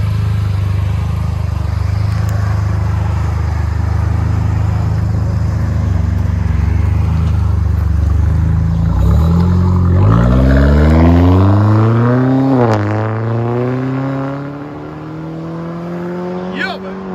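A Hyundai Genesis Coupe with a 3.8-liter V6, turbo setup and rear muffler delete with 4-inch black tips drones at a steady loud idle, then revs up and down in several rising and falling sweeps before settling lower.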